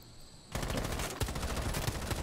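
Rapid automatic gunfire from the video game Rainbow Six erupts after a short quiet moment and continues as a dense, loud, steady stream of shots, with no talking over it.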